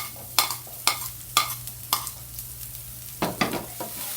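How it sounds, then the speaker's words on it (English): Garlic and onion sautéing in a pan for pork giniling, with a spatula scraping and stirring in a steady rhythm of sharp strokes over a soft, close sizzle; no voices. "Okay, now let's saute the garlic. Then onion."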